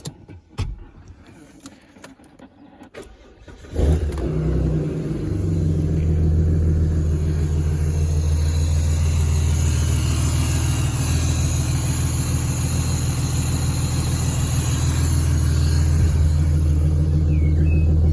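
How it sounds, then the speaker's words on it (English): Ford Falcon BF with a custom exhaust cranks briefly, catches and settles into a loud, deep, burbling idle that stays steady and close for the rest of the clip. "Sounds fat, as all Falcons do with the custom exhaust."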